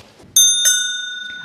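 A Bremen Town Musicians souvenir bicycle bell rings twice in quick succession, a bright metallic ding whose tone lingers and fades slowly, close and clear over a quiet room.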